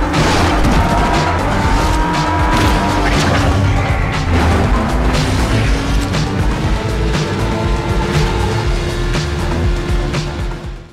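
Racing cars in an offline mobile racing game roar continuously throughout with a loud, sustained engine drone, shifting pitch and occasional skids or impacts, with no talk.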